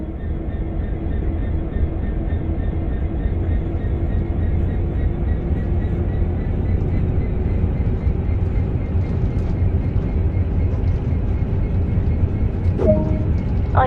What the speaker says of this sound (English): Now apply some power and get this train moving.